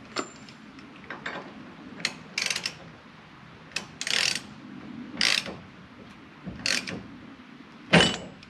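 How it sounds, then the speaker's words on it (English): A ratchet with a deep well socket works on fastening a grille guard onto a 2023 Volvo VNL 740 truck. It gives short bursts of close, sharp clicking, about a dozen uneven spurts separated by pauses. "both ratchets I've got are deep well, so let me try this"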